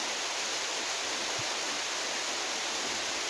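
Rain falls steadily behind a house on an overcast day, a dense, even hiss that holds without break for the whole stretch, with no voices.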